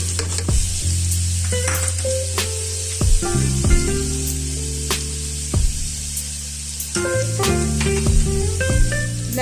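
Garlic frying in hot oil for a Shahi chicken qorma, a loud, dense sizzle with crackling pops and occasional stirring scrapes, close and continuous with no talking.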